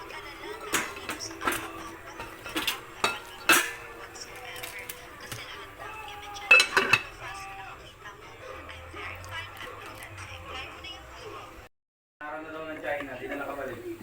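A metal lid set back onto a cooking pot of sinigang na liempo, giving a few sharp clattering knocks among kitchen clinks, with a steady simmer underneath and a short break near the end.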